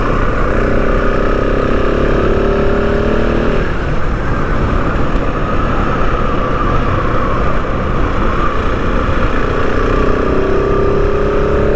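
A KTM 690 Enduro R motorcycle engine rumbles loudly and close, revving up, easing off, then climbing again in a continuous throaty drone.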